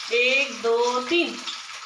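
Chhattisgarhi muthia fry in a pan with a steady, close sizzle and hiss. Brief tonal notes rise and fall over the crackle.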